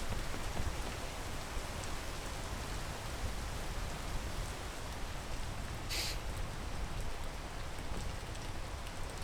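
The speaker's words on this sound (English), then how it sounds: "Because of this GD rain, I suspect?" Rain in the video game PEAK falls as a steady, even hiss of drops that runs throughout at a moderate, unbroken level, with no voices over it.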